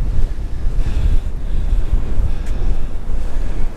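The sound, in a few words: wind blowing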